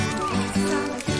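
A human voice imitates a horse's whinny, a short wavering vocal neigh lasting about a second, close and fairly loud.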